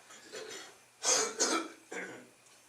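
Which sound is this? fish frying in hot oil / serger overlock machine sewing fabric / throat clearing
throat clearing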